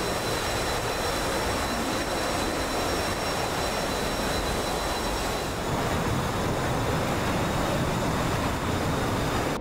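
Steady broadband jet engine roar from an F-16C throttled back toward idle in the DCS flight simulator, loud and continuous throughout with a faint high whine, no talking.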